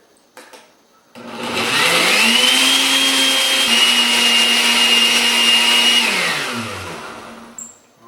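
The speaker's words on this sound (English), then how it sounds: "And let's get this blended." Blender whirring through salsa ingredients with cilantro, starting abruptly after a couple of faint clicks, holding a loud, steady high-pitched motor whine for about five seconds, then winding down as it shuts off.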